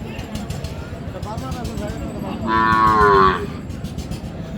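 A cow lets out one loud, close moo at a busy village cattle market where Sahiwal cows and calves are sold, rising over steady crowd noise and nearby chatter.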